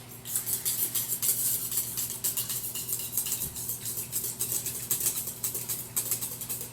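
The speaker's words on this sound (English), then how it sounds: "Now I'm going to pour the butter into here. So, now I'm going to whisk it." Hot melted butter being whisked into batter in a bowl for buttermilk apple cinnamon bread, making rapid, rhythmic clinks and scrapes of a whisk against the bowl throughout, close and clear, with no talking.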